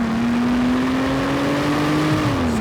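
A naturally aspirated Aston Martin Rapide sedan engine revs loudly up close, a sustained rising howl that holds, then drops off near the end, with no talking.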